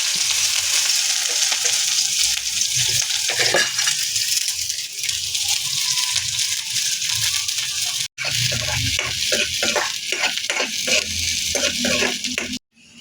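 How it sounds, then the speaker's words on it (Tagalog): Garlic and onion sauté in hot oil, a dense crackling sizzle throughout with bursts of spatter, a brief cut near the end and a spoon scraping and tapping the pan. "Gisa na natin ang bawang at sibuyas"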